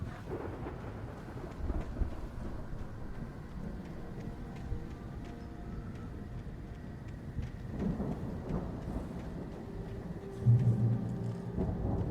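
A steady thunderstorm wash of rain hisses through Alan Wake Remastered, with low rolling rumbles of thunder swelling now and then and a heavier near crack toward the end, no voices over it.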